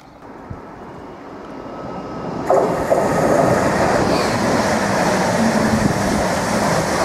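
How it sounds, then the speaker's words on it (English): A Class 745 FLIRT electric train racing through a station platform, a loud rushing roar that swells suddenly and then holds steady, heard close to the track with no talk. "Our 745 FLIRT unit has just raced through platform 2 heading to Norwich."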